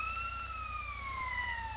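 Ambulance siren from GTA: San Andreas, a steady wailing tone gliding slowly up and down, loud and continuous over a low engine rumble with no voices.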